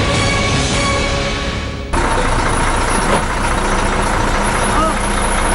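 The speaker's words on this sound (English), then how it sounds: "But see what happens when our truck approaches the toll plaza." A truck rumbles in on approach to a toll plaza in India, a loud steady engine drone with a sharp shift in tone partway through, and people talk over it.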